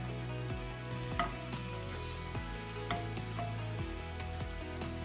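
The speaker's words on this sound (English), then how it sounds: "Add your egg and spread evenly to the edges of the pan." Soft, steady sizzling of an egg frying in an oiled pan, with a few light scrapes and taps of a utensil, no voices.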